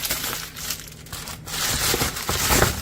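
Crinkling plastic packaging is pulled and crumpled close by as a TV backlight kit is unwrapped, a steady stretch of crackly rustling that grows busier toward the end.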